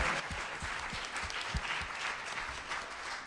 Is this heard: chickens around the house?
no